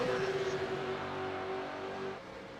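Supercars race around Mount Panorama in the iRacing sim, a steady engine drone holding a sustained tone that fades slightly toward the end, with no talk over it.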